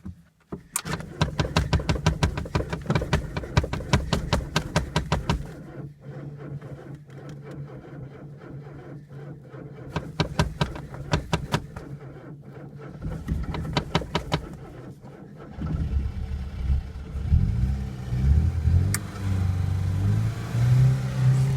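A petrol Ford Fiesta left unused for a year is cranked repeatedly, with rapid starter chatter in several bursts, before the engine catches and runs with a rough idle and a small rev near the end.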